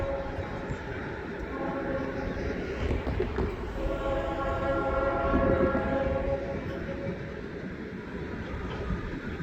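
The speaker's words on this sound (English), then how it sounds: "That's the horns for West King Street." A train passes near West King Street by the San Sebastian River bridge, its horn blaring in long sustained blasts over the steady rumble of rail cars, swelling louder mid-pass before easing, with occasional voices in the background.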